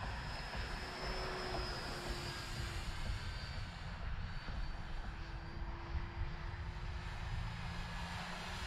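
An E-flite Timber Turbo radio-controlled airplane cruises at about half throttle, its electric propeller giving a steady, even drone from a moderate distance, with no voices.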